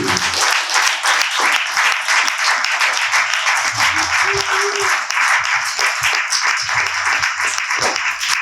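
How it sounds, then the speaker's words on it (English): Loud, dense applause from the crowd at a youth poetry slam runs unbroken for several seconds, with cheers and shouts mixed into the clapping. "Give a round of applause. Make some noise for Valor, Maximilian, Sean, Jamari"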